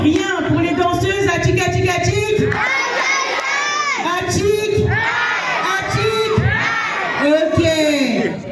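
A lively audience cheers and shouts for a group of dancers, with high, excited voices whooping and yelling in loud continuous waves, mixed with crowd noise throughout.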